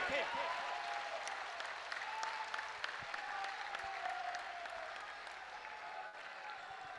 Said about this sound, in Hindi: जोर से एक बार इस युवा देशभक्त धर्म भक्त के लिए ताली बजाइए